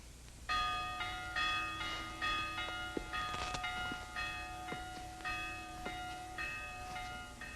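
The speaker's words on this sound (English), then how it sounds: "Church bells sounding the alarm." Several church bells ring an alarm, clanging repeatedly in overlapping, insistent strikes, their ringing tones hanging and decaying between hits, moderately distant and without voices.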